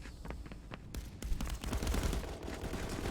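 Rapid gunfire bursts crackle in the VR shooter game Contractors, dense overlapping shots building into a sustained fusillade, loud and close.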